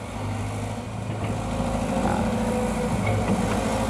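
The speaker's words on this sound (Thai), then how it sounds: "เครื่องยนต์สี่สูบนะครับ" A Caterpillar 320 GC excavator's four-cylinder 4.4 diesel engine with a water-cooled intercooler idles steadily at about 1,800 rpm, a close, continuous low rumble with a constant tone.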